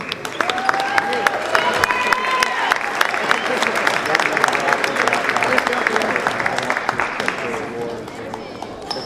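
A crowd at a high school boys basketball game in a gym applauds the Wareham Vikings, a dense, sustained clapping with some cheering and chatter filling the hall throughout.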